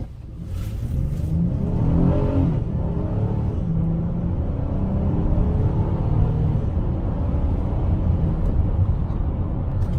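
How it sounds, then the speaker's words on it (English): A 2022 Honda Odyssey EX-L minivan accelerates hard from 0 to 60, its engine roaring loudly from inside the cabin with rising revs and a steady heavy rumble, no voices. "Now I'm going to do 0 to 60 test on a minivan,"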